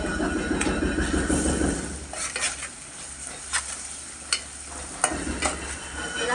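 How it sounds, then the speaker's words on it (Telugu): Ginger garlic paste fries in a pan for aloo korma, a soft sizzle under repeated scraping and stirring, with sharp clinks of a utensil against the pan at irregular intervals. "అల్లం వెల్లుల్లి పేస్ట్ వేద్దాం."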